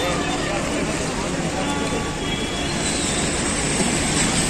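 Dense, steady ambience fills the Asansol railway station concourse, a constant wash of crowd babble and rumbling noise with voices mixed throughout.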